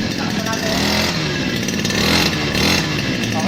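A grass cutter's small engine runs loud and steady at close range, with a continuous rough buzz that holds throughout without letting up.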